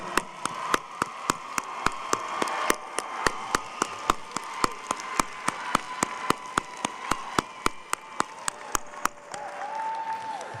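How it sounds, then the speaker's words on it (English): Commencement audience applauds standing cum laude 2021 graduates, steady rhythmic clapping for about ten seconds over a sustained tonal background, moderately loud and without speech. "Let's give them all a round of applause."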